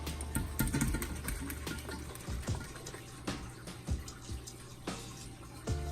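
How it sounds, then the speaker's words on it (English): Water drains out of a fish tank during a water change, with irregular drips, gurgles and sloshing splashes close by and no talking. "we're gonna have to do a water change right now and get this water out of here"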